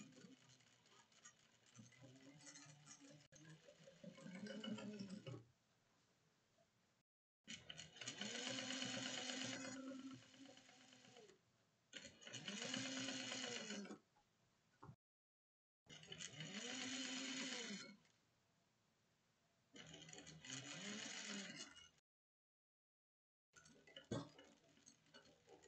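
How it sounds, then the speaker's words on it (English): A sewing machine back stitches a bag in several bursts of rapid, even mechanical chattering. Each run lasts a few seconds and is split by short silent pauses. "Back stitching."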